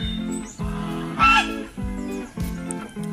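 Farm geese honk loudly and close by in a rhythmic series of harsh calls, with some noisy squawking layered on top.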